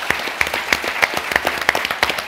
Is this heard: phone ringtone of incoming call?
no